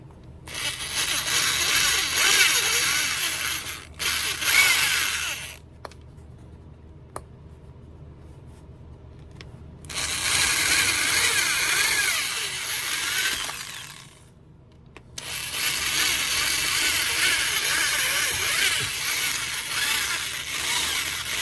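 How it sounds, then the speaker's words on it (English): A power drill whines in several long bursts, stopping and starting with quiet gaps between runs, drilling out hardware from 1962 Bally leather hiking boots. "So we're gonna go ahead and drill these out and get them out of the way."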